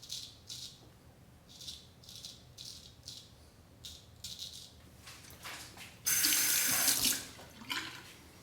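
A straight razor being rinsed under a running sink tap: repeated soft swishes and taps of the blade, then a loud burst of gushing water for about a second before quieter rinsing resumes.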